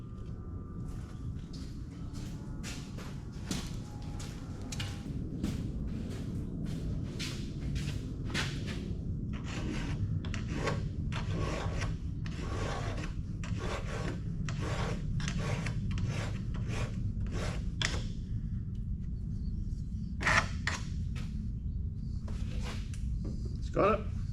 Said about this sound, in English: I'll just touch off with a file.